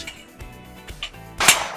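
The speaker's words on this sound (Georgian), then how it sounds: "აიღეთ პნევმატური ჩაქუჩი, მიარტყით ძალიან მარტივად" A pneumatic hammer drives fasteners into a metal CD drywall profile. A few sharp, separate snapping hits are followed by a louder, longer burst near the end, with no talk.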